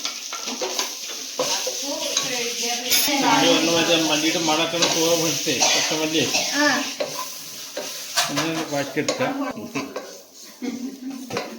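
Spice powders stirred into a sizzling frying pan with cardamom, cinnamon and star anise, a spoon scraping and clinking against the metal pan over a steady hiss.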